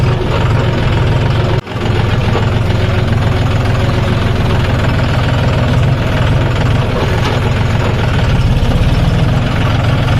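Engine of a new 2025 John Deere 5050 D 4WD tractor runs with a steady, heavy low rumble and rhythmic throb, close and loud, with a brief dropout early on.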